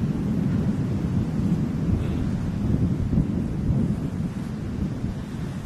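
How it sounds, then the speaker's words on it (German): A strong east wind buffets the microphone on a high mountain ridge near Kriváň, a continuous low roaring rumble that stays loud and steady throughout with no voices. "Hier oben kommt der Wind aus erster Hand"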